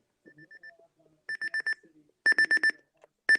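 The buzzer of a Sangean CL100 alarm clock sounds in sharp electronic beeps grouped in quick bursts of four, growing louder with each group, with a few soft clicks between.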